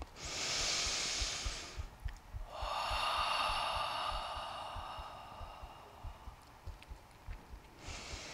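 Slow, deep breathing during a pregnancy yoga session, long airy inhales and exhales in separate drawn-out waves, close and fairly soft, with no talking.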